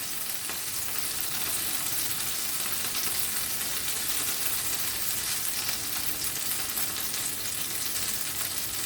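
Butter and olive oil sizzle in a hot pan over high heat, a dense, steady crackling hiss that holds at an even level throughout, with no voices.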